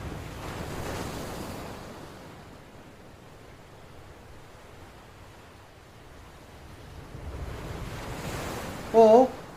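Stormy sea surf and gusting wind around a boat rise, ease into a low steady wash, then swell again, with a brief sharp sound near the end.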